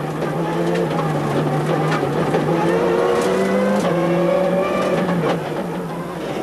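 A WRC rally car corners on a stage of the Rally of Turkey, its engine loud and close with rising and falling revs through the bend and a brief tyre scrabble, no talk over it.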